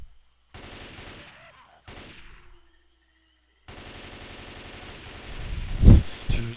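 Bursts of rapid gunfire in Left 4 Dead 2 aimed at a jockey infected in a swamp level, coming in separate volleys with gaps between them and building to a loud, dense barrage near the end.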